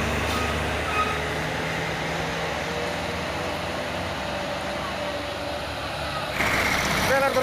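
A dump truck stuck crosswise on a steep uphill road; heavy diesel engine rumble runs steadily at moderate distance, with a brief sharper burst near the end, and a voice talks over it.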